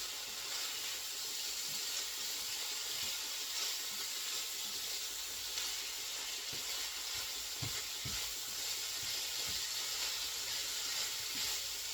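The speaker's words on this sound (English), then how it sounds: "1 teaspoon of garlic going in there with the onions and the sausage." Garlic, onions and Italian sausage sizzle softly in a pot, a constant moderate crackle with occasional light knocks and stirring sounds, and no voices.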